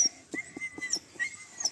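A puppy whimpers in short, high, thin cries, about half a dozen soft yelps spaced irregularly and heard close by, with no talk over them.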